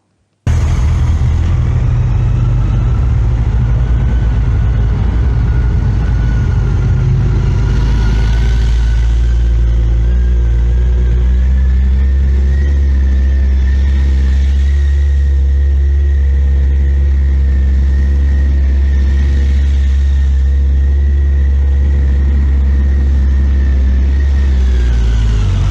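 A motorcycle engine hums at a low, steady idle close by, its pitch rising and falling gently every few seconds with throttle changes.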